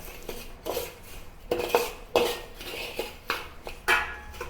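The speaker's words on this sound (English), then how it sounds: "now let's mix everything together" Utensils scrape and clatter against a wok while crispy fried garlic, breadcrumbs, black beans and shrimp are tossed together for typhoon shelter shrimp, a rhythmic series of close metallic clinks and scrapes.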